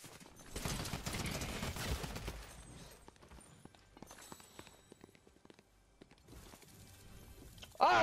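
Rapid gunfire bursts in the Fortnite video game, loud and dense in the first seconds and then sparser with scattered shots and game effects, ending in a sharp louder burst.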